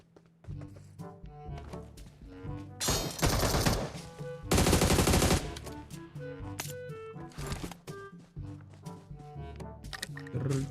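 Mini14 rifle shots in the mobile battle royale PUBG Mobile, a string of sharp single cracks at uneven intervals among other game sounds, with two louder, denser noise bursts in the middle.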